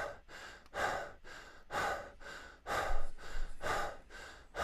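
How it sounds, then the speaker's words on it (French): Deep breaths in and out through a wide-open mouth, about eight slow, loud, airy breaths in a steady rhythm, close up with short pauses between. "Donc inspire, expire, inspire, expire."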